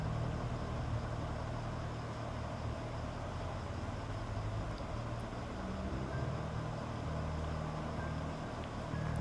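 A motorcycle engine idles on its own in a steady low rumble, continuous and even across the whole stretch, with no voices over it.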